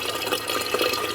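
Water running steadily, a dense continuous splashing hiss heard close and fairly loud, with a faint low hum underneath.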